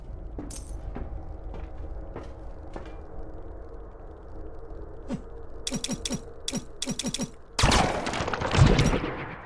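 Gunfire in the retro PSX-style shooter game Alien Life Lab: scattered single shots early, then a quicker burst of sharp cracks, followed by a louder explosive blast.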